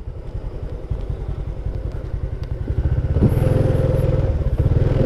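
Several motorcycles pass close by on a busy Indonesian street, a loud continuous sputtering engine drone with rattling and clatter that builds in intensity partway through.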